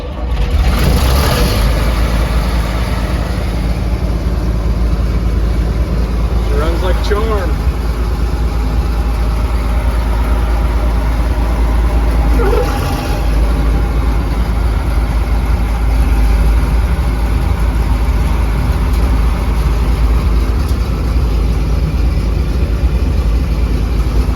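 A John Deere 6600 combine engine idles with a loud, steady low rumble throughout after starting, with people talking briefly over the constant drone.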